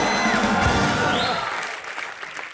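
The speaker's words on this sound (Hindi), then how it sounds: "जोरदार तालियां इनके लिए" A TV comedy studio audience gives a short burst of applause and cheering that fades over a couple of seconds.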